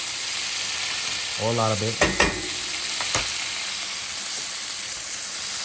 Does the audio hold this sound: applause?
no